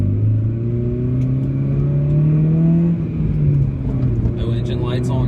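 2002-2004 Acura RSX Type-S heard from inside while driving, engine pitch rising steadily under acceleration then easing off, loud and close with a steady rumble.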